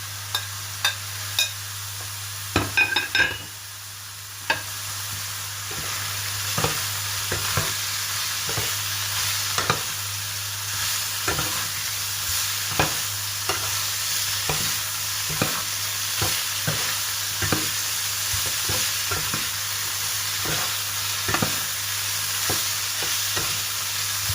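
Long beans stir-fried with red curry paste and minced pork in a hot pan give off a steady, close sizzle, broken by frequent sharp clicks and scrapes of a spatula against the pan. No one speaks.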